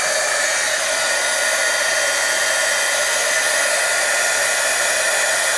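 A heat embossing tool blows a steady, loud, unbroken whirring hiss like a small hair dryer as it melts embossing powder on a card, close to the microphone with no talking.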